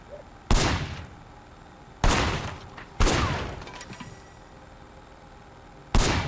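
Loud gunshots from Sleeping Dogs at a firing position, four sharp blasts spaced irregularly, each with a long reverberant decay, heard alone without talk.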